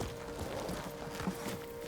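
Horse hooves clop steadily while riding through the countryside of Japan in the Ghost of Tsushima video game, a soft, even rhythm of muffled steps over a constant wash of ambient noise.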